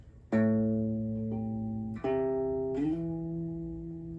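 A guitar string is plucked and rings out, then slides upward in pitch twice, each new note sustaining clearly with no talking.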